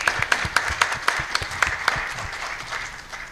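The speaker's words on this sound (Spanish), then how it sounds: "un fuerte aplauso también para todos los organizadores" An audience at the closing panel of an academic congress in Córdoba bursts into a warm round of applause with distinct claps standing out early, then settles into a steadier, slightly fading patter.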